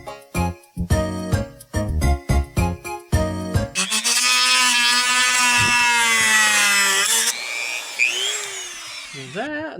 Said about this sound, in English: This is just drilling a hole through that handle,